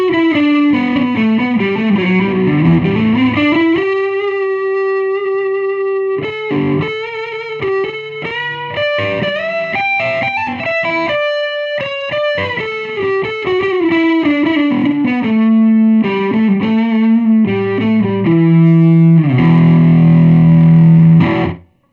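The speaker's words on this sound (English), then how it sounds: "let's go back and hear that same riff through the speaker which has not been modified" A distorted electric guitar riff plays through an unmodified 1979 Sunn 128G 12-inch speaker, loud and sustained with chordal notes, slides and a heavy low-end chug near the end, with no talk over it.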